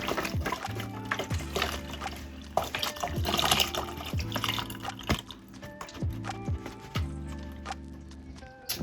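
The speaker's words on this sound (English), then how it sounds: "We're gonna add a carton of garden vegetable broth." Garden vegetable broth glugs from a carton into a pan in rhythmic pulsing pours, close and fairly quiet, with a few clinks in between.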